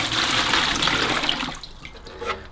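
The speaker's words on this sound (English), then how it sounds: "pour away the water" Water from the removable tank of a De'Longhi Magnifica S coffee machine pours into a kitchen sink, a steady broadband splashing that runs loud for about a second and a half, then thins into scattered drips and trickles.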